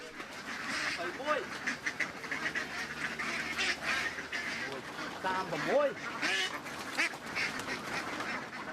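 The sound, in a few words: ducks quacking while loaded into truck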